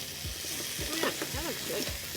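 Crispy food frying in a pan on a camp table outdoors, a steady close sizzle running throughout, with low voices murmuring briefly underneath.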